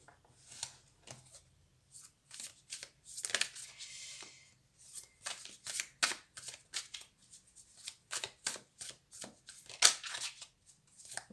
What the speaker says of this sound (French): On va aller tirer les autres cartes.